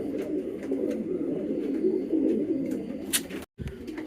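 A sick pigeon coos softly and repeatedly in a low, throaty rhythm, close by, with a brief gap near the end.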